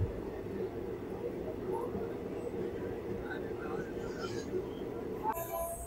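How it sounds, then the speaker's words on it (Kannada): A passenger train heads out toward Haveri at dusk, its low rolling rumble steady and continuous from inside the carriage, with faint background noise and a brief rattle near the end. "ಇವಾಗ ಟ್ರೈನು ಹಾವೇರಿ ಕಡೆ ಹೊರಡ್ತಾ ಇದೆ"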